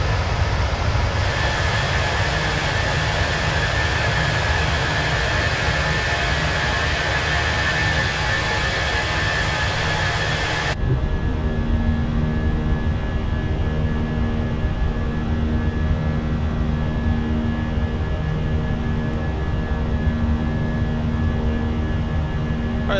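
An airliner climbs after takeoff in a flight simulator game, giving a continuous broadband engine roar and rushing wind that shifts abruptly to a lower, steadier drone partway through with faint tonal hums.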